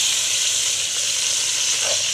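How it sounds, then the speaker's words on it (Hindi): Small chicken pieces fry in hot ghee in a kadai, a loud, even, bright sizzle that holds steady without a break and with no voice over it. "घी में डाल के हम इसको करेंगे फ्राई।"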